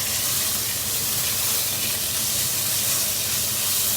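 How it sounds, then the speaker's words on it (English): Beef rendang sizzles in a pan with a loud, steady, close frying hiss that stays even throughout, with no talking. "Sizzling."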